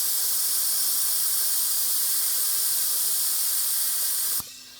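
A vacuum brake bleeder hisses steadily as it pulls fluid from dirt bike brakes, a constant airy rush that cuts off abruptly near the end.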